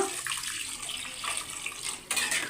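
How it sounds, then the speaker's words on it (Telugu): Water pouring into a pot of rice for chicken biryani, a steady close splashing stream that briefly eases and then surges again near the end. "ఆ వాటర్ అనేది యాడ్ చేసుకోవాలి"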